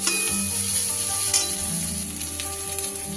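Fried ingredients for a restaurant-style mixed fried rice are stirred together in a hot pan, giving a loud continuous sizzle with scraping spatula strokes and small clattering knocks throughout, and no talking.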